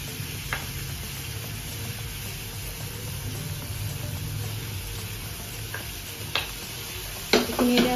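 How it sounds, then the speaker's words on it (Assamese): Onions fry in butter for butter paneer, a constant soft sizzle with occasional clicks of stirring near the end, heard alone at close range. "গোটেইখিনি এতিয়া ধুনীয়াকৈ বাটাৰত ভাজি ল'ম।"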